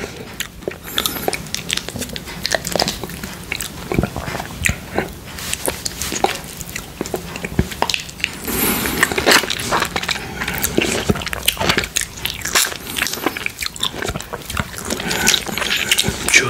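Close-up eating of a sweet, juicy yellow grapefruit, with steady wet crunching, biting and squelchy chewing sounds continuing throughout, fairly loud and near with no talking.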